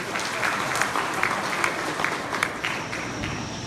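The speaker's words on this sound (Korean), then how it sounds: "여러분 박수 한번 쳐주십시오" Audience applause at a Korean literary forum, many hands clapping in a dense, even wash with a few sharper claps standing out, continuing steadily throughout.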